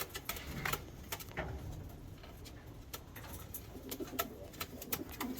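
A young pigeon coos softly among scattered taps and shuffling, low murmuring calls repeating faintly under a busy patter of clicks in a loft.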